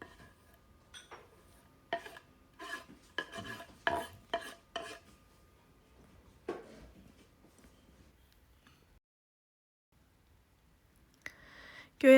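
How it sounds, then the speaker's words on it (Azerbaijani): Chopped coriander and dill are mixed into a potato filling for peraşki: a quick run of soft, close stirring scrapes and knocks, then a near-silent pause, then one louder clatter at the end. "Göyərtini də əlavə edib bunu yaxşı-yaxşı qarışdırıram."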